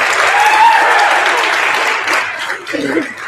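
A crowd applauds the candidates at a presidential debate, steadily, a dense wash of clapping that holds strong, then thins and tapers near the end.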